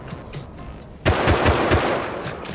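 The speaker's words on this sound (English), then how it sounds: "I headshot him and body shot him." Rapid gunfire in the survival game Rust erupts after a second of quieter background, a close, loud burst of repeated shots running to the end.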